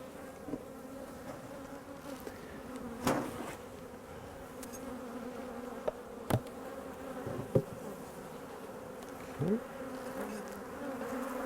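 Honeybees fly around a hive during a swarm transfer, giving a continuous droning buzz of many wings, with occasional louder passes and soft knocks from nearby hive work.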